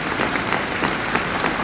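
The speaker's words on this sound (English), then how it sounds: "The whole of the Union standing and applauding this magnificent speech of James Baldwin." A large audience stands and applauds James Baldwin's speech at the Union, producing a sustained, even wash of clapping from a packed hall that holds steady, with no voices over it.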